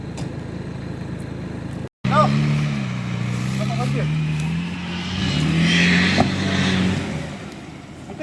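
Car engine revving repeatedly at close range, pitch rising and sagging over several seconds after a brief cut, with people talking over it.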